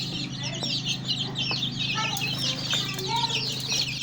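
Native Nigerian chickens and a brood of young chicks cluck and peep continuously in a pen, a busy overlapping chorus of soft clucks and high chirps at moderate distance.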